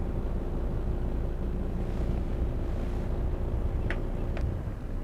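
Low, steady rumble of twin Volvo Penta D3 220 diesel engines idling on a Bavaria S33 HT boat, with wind buffeting the microphone, a constant idling drone throughout.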